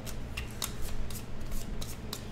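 Playing cards for the Chariots of Rome board game are shuffled, giving a quick series of crisp riffling snaps and rubs close by, with no talking.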